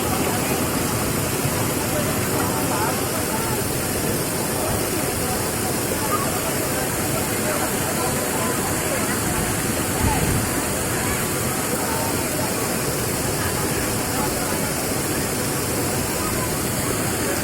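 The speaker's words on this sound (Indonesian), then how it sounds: "Ya, inilah suasana di air terjun Pancaran" The roughly 75-metre Pancaran waterfall in Empat Lawang roars in a loud, constant broadband rush of falling water, steady and unbroken from start to finish.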